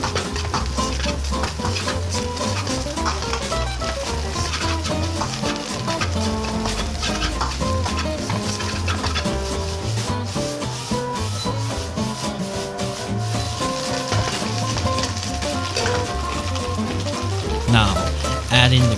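Egg fried rice with sesame oil is stir-fried on an induction stove, giving a loud, continuous sizzle with constant scraping and stirring throughout.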